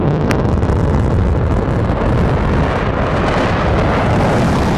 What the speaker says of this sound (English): There's that engine relight.